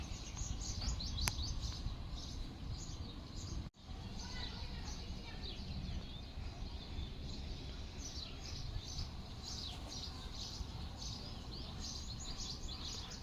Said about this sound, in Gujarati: જો તમે ધ્યાનથી સાંભળશો તો પક્ષીઓનો અવાજ આવતા હશે